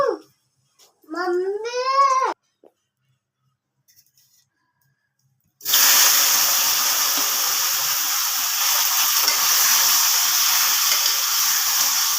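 Dried red chillies and bay leaves hit hot oil, a sudden loud hiss that settles into a steady close sizzle, following a brief voice and near silence.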